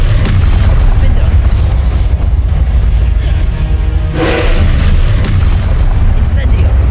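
Spell impacts and explosions in the Hogwarts Legacy video game boom repeatedly during combat, heavy low thuds and bursts layered with a voice casting spells throughout.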